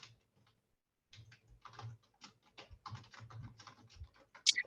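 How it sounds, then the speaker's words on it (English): Rapid clicking of computer keys being typed, a close, dry patter in short bursts after a brief quiet start, with a sharp higher tone at the very end. "while I'm typing on that"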